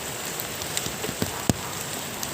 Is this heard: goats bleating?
no